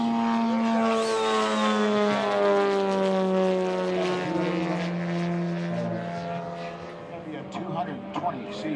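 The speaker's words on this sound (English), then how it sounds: "Razorback, it's a scratch-buillt from Don Smith" A giant-scale scratch-built P-47 Razorback warbird model at a flying event, its piston engine droning loudly and steadily with a rich harmonic whine that shifts in pitch as the plane passes, nearly continuous for the whole stretch.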